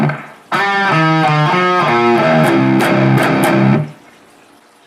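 Heavy distorted electric guitar plays a riff at full speed, chugging palm-muted notes in a tight driving rhythm, loud and alone for a few seconds before cutting off.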